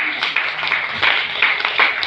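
A church congregation claps for Jesus: dense, continuous, close-up applause with a loose pulsing rhythm that fills the whole moment, with voices mixed in.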